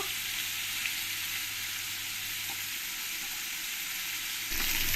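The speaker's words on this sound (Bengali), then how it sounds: "একটু কড়া কড়া করে আমি কই মাছগুলো ভেজে নেব" A steady, close hiss of koi fish frying crisp in oil runs throughout, with a faint knock or shift of the pan near the end.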